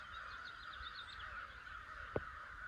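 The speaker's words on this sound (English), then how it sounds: "about every other day we will see a hawk flying through and 2 or 3 crows dive bombing him" Crows caw in a quick series of harsh calls, moderately distant over steady background hum, as a few of them dive at a hawk passing over a homestead.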